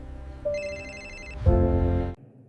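A telephone rings twice as threatening calls pour in, a bright electronic ring with a steady tone, the second burst louder and fuller over a low background murmur.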